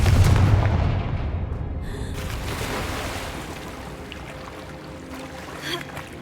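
Confringo spell explosion in the video game Hogwarts Legacy: a loud booming blast at the start that decays into a long rumbling wash, with a second fainter burst midway and lingering crackle.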